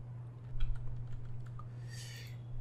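Quiet keystrokes tapped on a computer keyboard at a brisk, uneven pace, close by over a low steady electrical hum.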